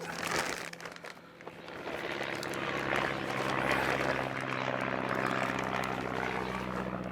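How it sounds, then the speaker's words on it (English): A small tourist propeller plane passes overhead in a garden setting, its steady engine drone rising and holding loud and fairly close throughout, with no talk over it. "There's that plane yet again."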